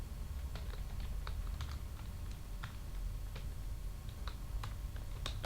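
Computer keyboard typing while entering text in an Excel spreadsheet, irregular soft key clicks in short bursts over a low background hum, fairly quiet and close.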